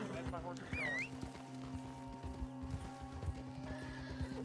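A horse in the Red Dead Redemption video game clip-clops with close hoofbeats and gives a shrill neigh early on, then keeps trotting steadily to the end.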